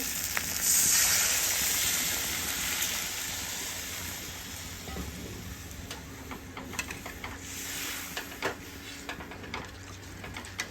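Water poured into a hot pan of simmering egg curry sets off a steady hiss and sizzle, loudest at first and then settling into a softer crackling bubble with small ticks throughout.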